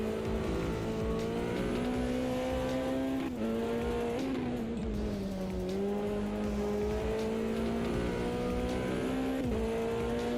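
Rallycross RX cars in the racing game Automobilista 2, with a loud sustained engine drone that rises and dips as gears shift and throttle changes, plus faint tyre squeal, continuous throughout.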